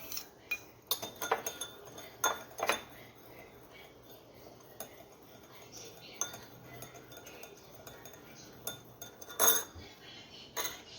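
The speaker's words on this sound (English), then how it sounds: "In the third bowl, I am going to add sugar and stir it." A metal spoon stirring sugar into water in a bowl, irregular light clinks and taps against the dish, faint and intermittent in a quiet room.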